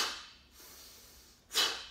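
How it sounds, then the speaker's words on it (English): Breathing through the nose during a taekwondo form: a soft, airy inhale near the start, then a sharper, louder sniffing intake of breath near the end, close to the mic with no talking. "Make sure you're breathing in through your nose."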